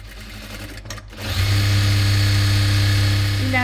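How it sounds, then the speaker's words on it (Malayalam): An electric sewing machine starts up and runs steadily, a close, loud continuous whirring hum while stitching fabric cut from an old nightie. "ഇനി നമുക്കിത് സ്റ്റിച്ച് ചെയ്തെടുക്കാം."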